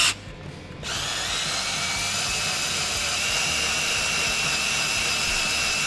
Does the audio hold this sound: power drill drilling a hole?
yes